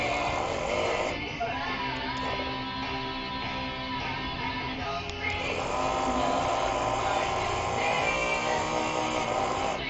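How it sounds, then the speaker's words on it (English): A small electric motor on a model project runs steadily after oiling, a continuous whirring drone with shifting tones, close and fairly loud for the whole stretch, with a faint voice underneath. "See? Motor works really good now."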